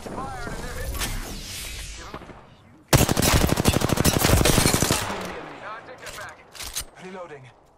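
Loud, rapid automatic gunfire from the video game Apex Legends on PS4 Pro, a dense burst lasting about two seconds and then tailing off into scattered shots, with a voice talking beforehand.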